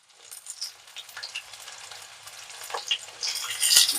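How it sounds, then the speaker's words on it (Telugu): Two medium onions sizzle in hot oil with peanuts for okra fry, a fine crackling hiss that swells toward the end, with light stirring clatter. "మనం ఇప్పుడు ఉల్లిపాయలు వేసుకోవచ్చు నేను ఉల్లిపాయలు కొంచెం ఎక్కువ వేస్తున్నాను"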